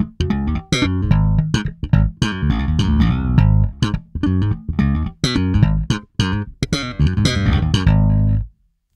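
Fast slap lick on bass guitar, with open strings felt as rhythm more than notes; dense, punchy popping and thumping, loud and close, played alone for several seconds before stopping.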